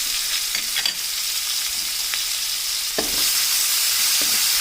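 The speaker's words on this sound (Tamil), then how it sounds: "இது நல்லா வதங்கட்டும்." Chopped onion and curry leaves frying in oil in a pan for Tamil pepper curry: steady loud sizzle throughout, with occasional scraping stirs, close up, no voices.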